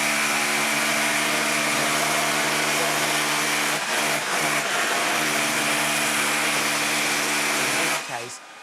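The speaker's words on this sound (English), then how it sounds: "Phew, saved by the drill." A loud, steady motorized whine with strong tonal harmonics runs for about eight seconds, then cuts off abruptly near the end.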